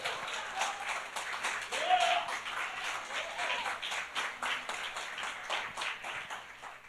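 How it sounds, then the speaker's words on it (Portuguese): A church congregation applauds during an evangelical service, a steady wash of clapping that fills the room for several seconds, with voices mixed in. "Você pode aplaudir o Senhor nessa noite?"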